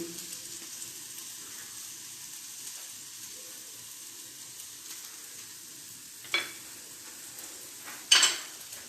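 Oil sputters in a pan with a sprig of thyme, making a low, steady frying hiss with a couple of brief louder crackles near the end, and no voices.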